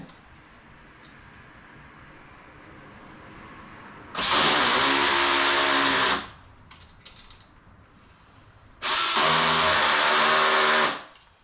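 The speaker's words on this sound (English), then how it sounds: "while I drill it with this side" A power drill bores through a part of a folding Adirondack chair in two loud sustained bursts of about two seconds each, separated by quieter pauses with faint handling clicks.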